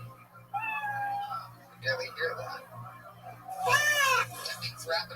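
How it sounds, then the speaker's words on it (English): A kitten meow sound effect used as a time-up cue on a talk stream, with two clear high meows, one early and one louder near the end, separated by talking. "you know your 60 seconds is up when you hear the sound of a kitten"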